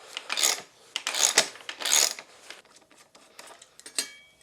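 A drive-side crank arm is worked loose from a lightweight alloy gravel bike crankset, giving a series of close metallic ratcheting and rubbing bursts followed by quieter clicks and scrapes.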